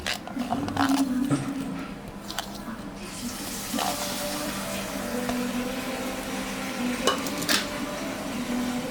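Chopped onion and garlic sizzle in oil for a goat meat curry, with a steady frying hiss and occasional clinks and scrapes of stirring in the pot.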